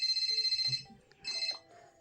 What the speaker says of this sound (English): until my phone rang